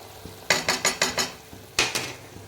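A garam masala container lid being pried open by one hand: a quick run of five close, sharp clattering knocks, a brief pause, then two more, with no talking.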